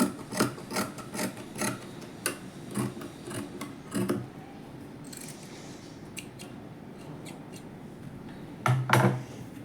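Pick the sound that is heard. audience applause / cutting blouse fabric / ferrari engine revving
cutting blouse fabric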